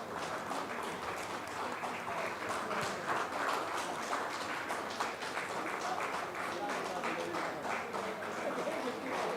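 A full audience claps steadily and densely for about nine seconds at an international pharmaceuticals conference felicitation, the applause even and sustained throughout with no break.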